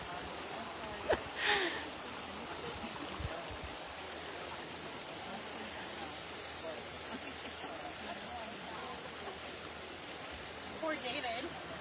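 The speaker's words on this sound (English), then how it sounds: "I decided I'd be quiet so you could hear the river." A river flows steadily on, a constant rushing wash of water that carries through the whole stretch at an even level, with a few brief louder knocks and rustles near the start and end.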